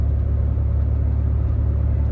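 Steady low rumble of an automatic car on the road, heard from inside the cabin, a constant engine and road drone without pauses or voices.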